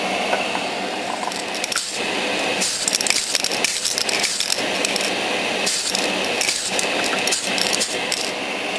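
A spray paint aerosol can is shaken vigorously up close, the mixing ball rattling in quick repeated bursts with brief pauses between.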